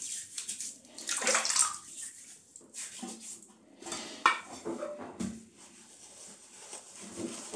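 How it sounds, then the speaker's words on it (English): Safety razor, a Giesen and Forsthoff, rinsed under running water, with splashing and metallic clinks against a basin over several seconds, loud at first, then softer, close by. "I'm going to just have a little rinse"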